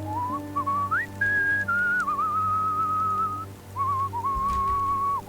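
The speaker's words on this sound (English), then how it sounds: "I thought his whistling was part of the conversation." A video game character whistling a slow, wavering tune in a bath house, clear and close, sustained notes with short breaks over a low steady hum.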